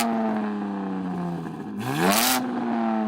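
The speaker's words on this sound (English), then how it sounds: "Yanni, rev up your car" Tuned BMW engine revving before a drag race, a steady idle drone that dips, then rises sharply in a quick rev before settling back to idle, close and loud with no talk.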